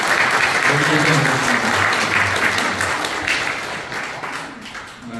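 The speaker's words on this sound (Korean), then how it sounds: "격려의 박수 한번 좀 부탁을" Sustained audience applause fills a Korean community social welfare council evaluation and awards ceremony, loud and steady before slowly thinning, with a speaker's brief closing word over it.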